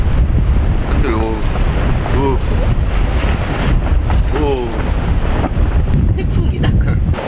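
Strong gusting wind roars across a campsite at full strength, buffeting the microphone throughout, with a few voices faintly heard talking beneath the rumble.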